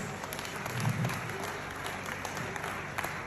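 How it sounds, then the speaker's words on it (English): Audience applause from a crowd, a dense steady wash of clapping at moderate distance that holds evenly for a few seconds. "a round of applause"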